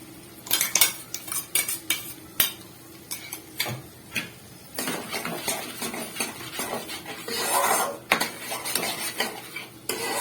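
Spice masala being stirred and fried in a pan for aloo dum, with cumin and coriander powder: a steady run of metal spoon scrapes and clinks against the pan over a soft sizzle, close and busy throughout.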